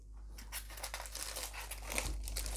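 Plastic crinkles and rustles up close in quick, irregular bursts, fairly quiet, with no voices.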